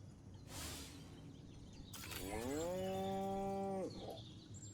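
A cow lets out a single long, loud moo in the video game Destroy All Humans, starting low and bending upward, then holding steady. A brief whoosh comes just before it, and game ambience runs underneath.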